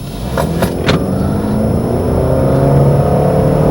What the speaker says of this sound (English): The CVT transmission keeps everything nice and smooth, and it does have a bit of a whine to it, most CVTs do